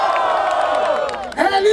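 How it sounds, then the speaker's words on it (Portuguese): A loud crowd roars and cheers at the grand final of a Brazilian rap battle, the Batalha da Aldeia, with a sustained mass of voices and a rising shout near the end. "Barulho para as rimas da Tote!"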